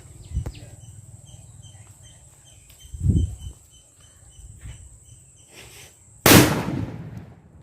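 A sharp bang from a 250 g country firecracker bursts loudly near the end, after a few fainter pops, with insects chirping steadily in the background.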